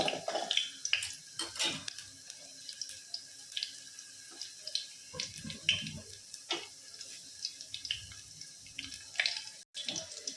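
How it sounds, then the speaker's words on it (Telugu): Crushed garlic fries in hot oil in a pan, giving a faint, steady crackle and sizzle with scattered small pops. No voices. "వెల్లుల్లిని కొంచెం వేగనిద్దామండి"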